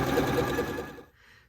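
Sewing machine or serger stitching a hemband onto a knit cardigan, a steady close mechanical whir running for about a second before cutting off, with only faint background after.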